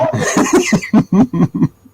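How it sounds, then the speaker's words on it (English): A few quick, harsh coughs in a rapid burst, close and loud, trailing off into quiet breathing. "Oh God, I'm coughing."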